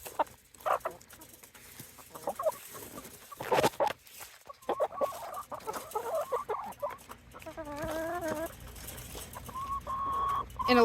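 Pet hens cluck and murmur close by in a backyard setting while pecking at treats, with a varied run of soft clucks and a few louder squawks, no talking.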